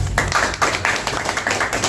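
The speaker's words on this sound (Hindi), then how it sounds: "इसलिए जोरदार ताली हो जाए।" An audience breaks into a burst of clapping, uneven hand claps overlapping in a steady patter for the whole short stretch, fairly close.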